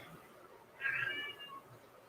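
A cat gives a single short, high meow, close but faint, in an otherwise quiet room.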